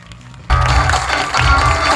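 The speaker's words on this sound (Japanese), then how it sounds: "皆様大きな拍手でお送りください" Audience applause sending off the cast at a Japanese fan event for a Korean streaming series, bursting in suddenly after a quiet moment and continuing as loud, dense clapping with low thumps mixed in.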